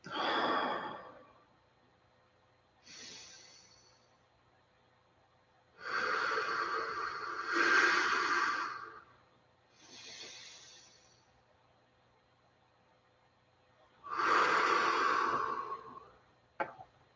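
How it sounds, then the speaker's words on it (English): Slow, deep breaths, full inhales and long exhales, close and quiet, spaced by silent pauses in a calm room. "I take a few nice, full, deep breaths"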